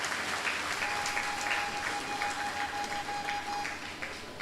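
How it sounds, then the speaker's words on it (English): Audience applause fills a hall at an award ceremony, a sustained, moderately distant wash of clapping that runs steadily and tapers slightly at the end, with a faint tone humming underneath. "Give her a round of applause."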